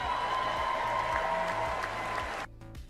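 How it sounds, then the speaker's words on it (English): An audience claps steadily in a hall, dense sustained applause that cuts off abruptly near the end. "Just eating up the applause"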